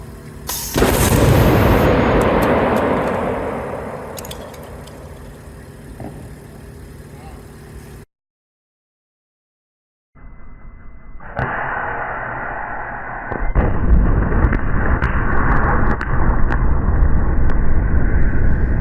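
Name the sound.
Lorentz plasma cannon firing at 210,000 volts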